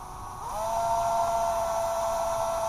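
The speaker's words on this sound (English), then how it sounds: "And now we'll get the drill." A power drill with its clutch set low spins up and holds a steady high whine while snugging bolts on a rear differential, close and loud with no talking.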